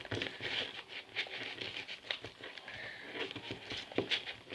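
Paper being folded into a paper airplane, with soft, close crinkles and creasing taps coming in irregular bursts at low volume.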